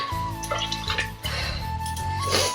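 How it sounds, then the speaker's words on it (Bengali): Rice being washed in water before pressure cooking gives close splashing and swishing with small drips and a rinsing gush, continuous but uneven, over a faint tonal hum. "চালটা ভালো করে না ধুলে হবে না"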